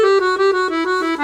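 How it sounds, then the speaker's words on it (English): A 120 bass accordion plays rapid trills stepping downward to B, bright reedy notes wavering quickly in a steady fluttering rhythm, close and clear with no voices. "you're going to play trills all the way down to a B"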